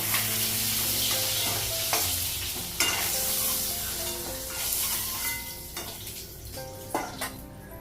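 Oil sizzles steadily in a pan, a continuous hiss with scattered clinks and stirring knocks throughout, close and moderately loud, with no talking.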